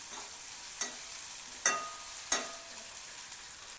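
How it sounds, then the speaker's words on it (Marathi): Chopped onion sizzles in hot oil with cumin seeds, ginger-garlic paste and egg bhurji spices, a steady close frying hiss broken by three or four sharp stirring scrapes. "कांद्याला छान भाजायचं लालसर होईपर्यंत।"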